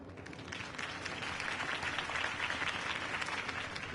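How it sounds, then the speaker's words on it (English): A crowd applauds after a campaign speech, producing a steady, dense wash of clapping that swells slightly and holds throughout, heard at a distance and fairly quiet. "If only Mr. Wayne, my campaign's largest backer, could have heard that applause"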